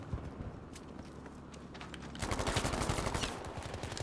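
Rapid bursts of automatic gunfire pile up in a Battlefield V firefight, a quieter stretch of shots giving way to a louder, dense rattle of repeated reports near the middle before easing off.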